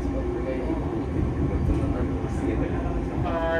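The tatami-floored rapid Ozashiki Omiya Kai-no-kuni excursion train from Omiya to Kobuchizawa rolls into a passing siding beside a station platform: a steady close rumble of wheels and running gear with faint squeals near the end, under someone talking.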